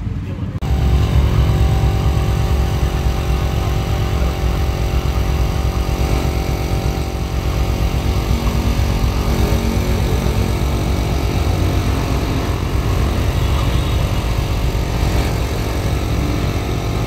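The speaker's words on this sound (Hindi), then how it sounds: "दो गाड़ी आ गई है।" Two Defender vehicles idle close by at a dent-and-paint repair spot, a steady, loud mid-pitched engine rumble with a constant low hum that holds throughout, while people talk faintly in the background.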